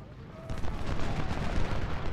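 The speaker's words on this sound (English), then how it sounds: "See if these artillery pieces get into action." Civil War artillery in Ultimate General: Civil War fires canister, heard as a dense, continuous rumble of booming cannon and battle noise at moderate distance with no clear breaks.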